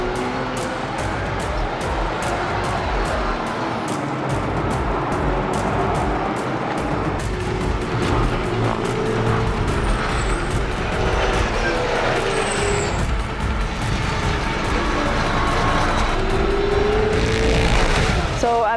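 Race cars roar around the track during a tough race, engine noise loud and continuous throughout, with cars passing and shifting pitch over a steady dense background.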